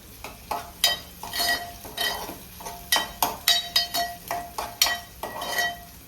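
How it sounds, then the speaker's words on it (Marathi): Onion, ginger and green chilli fry in a pan while a utensil stirs and scrapes, giving irregular clinks and scrapes over a low sizzle, close by and with no talk. "ह्याच्यामध्ये आता आपण आलं आणि मिरची घालून घेऊया"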